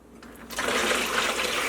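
Dissolved sugar solution pours into a turkey brine after a short quiet start, a close, steady gush of liquid filling a container that holds on to the end.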